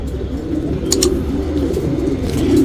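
A fancier's pigeon coos up close, a soft, continuous low rolling murmur that fills the short moment with no pauses.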